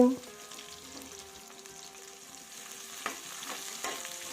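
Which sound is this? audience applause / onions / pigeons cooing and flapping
onions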